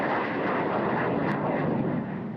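Military jet aircraft flying during an aerobatic display at the Avia Darts competition in Russia, a steady broad roar of engine noise that fills the whole clip with no talk.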